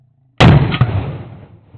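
A single loud .50 Desert Eagle pistol shot fired into a ballistic gel block, a sharp close blast followed by a long decaying roar and echo, with no talk.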